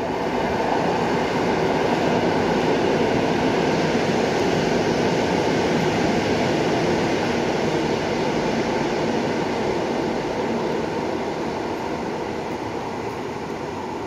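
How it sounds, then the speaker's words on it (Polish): A passenger train rushes nonstop through Łódź Widzew station, a steady, loud, dense roar of wheels and carriages that holds evenly throughout and fades only slightly at the end. "Na tor trzeci przy peronie drugim wjedzie pociąg bez zatrzymania i oto i on."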